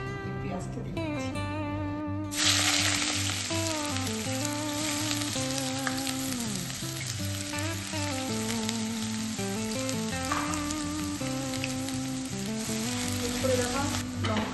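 Chopped onion drops into hot refined oil for chicken maharani and erupts into a loud, continuous sizzle that carries on steadily, with a voice talking underneath throughout.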